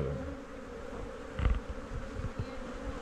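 Honeybees swarm around an opened beehive at a teaching apiary, a steady close buzzing drone filling the air with a brief louder thump midway and no talk.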